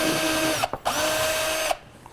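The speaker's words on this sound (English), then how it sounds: "we're going to go up progressively, step by step with drill bits until we can get the first part of that self-tapping thread into that hole" A power drill bores a pilot hole in aftermarket Chinese fairing bodywork on a 2005 Suzuki GSX-R750, a steady close whine broken by two short pauses, then stopping near the end.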